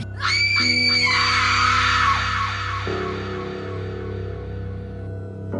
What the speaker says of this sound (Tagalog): May pagnanasang sigaw ng mananangal.